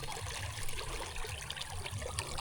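Water trickles and spills out of a flooded rice paddy, a faint continuous babbling flow with low rumble, no voices.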